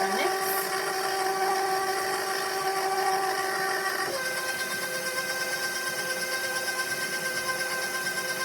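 Stand mixer whirring as it blends chocolate chip cookie dough while flour is gradually added, a steady motor whine with a slight pitch drop midway, heard close and continuous.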